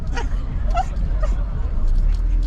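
A dog acting up near a street in Kato Paphos, Cyprus, lets out a few short barks and yips over traffic rumble, with people talking nearby.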